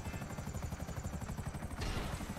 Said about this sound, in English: So my helicopter is smoking.